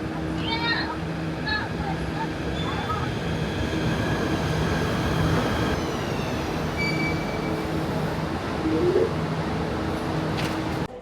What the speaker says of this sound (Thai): รถไฟขบวนนี้มาเพื่อเขาที่ไปตีอยู่